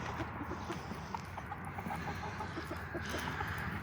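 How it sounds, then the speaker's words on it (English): Backyard chickens cluck softly in a repeated, uneven pattern of short notes against steady outdoor background noise on a cold morning, fairly faint and with no talking. "Good morning, chickens."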